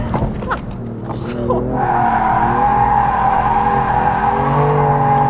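A BMW F82 M4 engine roars steadily at high revs with a brief tire squeal near the start, loud and close throughout.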